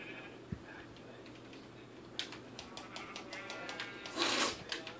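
In Minecraft, a sheep in a snowy survival world gives a few short, nasal bleats. A louder cry comes near the end over quiet game ambience, with no talking.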